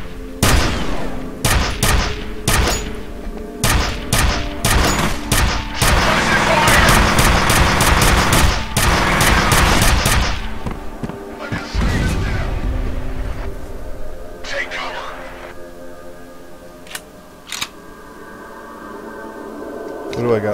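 Rapid gunfire from the shooter game F.E.A.R., with bursts of loud, close shots through the first half and scattered single shots afterward, mixed with game sound effects.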